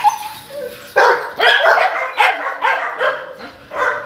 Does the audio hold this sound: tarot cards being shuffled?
no